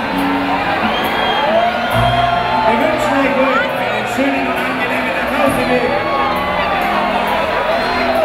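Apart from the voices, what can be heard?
Oktoberfest tent crowd cheering, Schützenfestzelt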